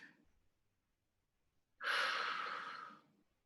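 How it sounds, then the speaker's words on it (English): A single heavy, forceful breath during a high-intensity interval workout, lasting about a second and close to the mic, following a brief quiet stretch. "Breathing."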